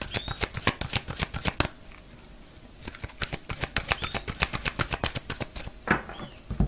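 Oracle cards shuffled by hand in close, crisp riffling bursts, with rapid flicking runs broken by a brief pause before the shuffling resumes.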